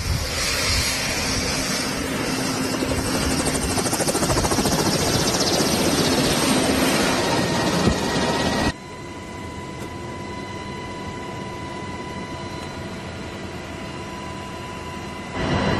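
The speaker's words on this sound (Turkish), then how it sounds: "Polis helikopterine bindik." Inside a police helicopter in flight, a steady, loud roar of rotors and engine fills the cabin without pause, its tone shifting once partway through.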